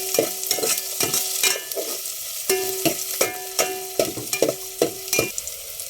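Onions are stirred in a sizzling frying pan for pork sinigang: steady, rhythmic scraping strokes, about two per second, over a constant loud hiss of frying, close and with no talk.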